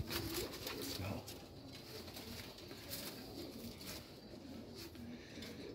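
Pigeons kept in a loft, a breed known as ghazar, cooing softly and continuously amid a busy, noisy background with faint rustling.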